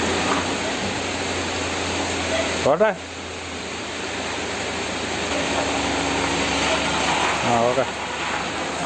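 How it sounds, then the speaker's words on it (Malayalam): Heavy evening rain pours down steadily as a dense, loud hiss filling the whole scene, with a few brief spoken words over it. "വൈകിട്ട് നല്ല മഴ പെയ്യുന്നുണ്ട്"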